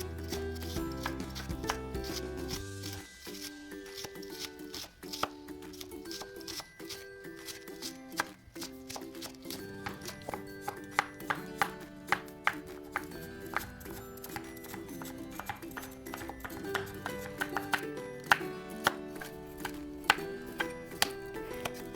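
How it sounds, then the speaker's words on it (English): Rapid knife chopping of onion, garlic and chilies on a board, steady rhythmic taps, accompanied by background music throughout. "Next, we're going to chop the onion, garlic, and the chilies."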